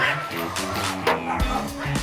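A dog guarding its territory barks repeatedly in short, close, loud bursts, mixed with yips under a background of music or voices.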